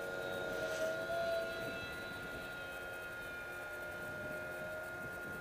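Delta Mig RC speed plane on a 4S battery passing overhead, a continuous high electric motor whine with steady tones, fairly distant and even in loudness, no voices.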